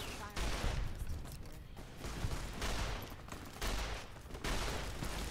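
Bursts of automatic gunfire from a weapon being test-fired in Fallout: New Vegas, several loud sustained volleys separated by short gaps, with a voice talking over them.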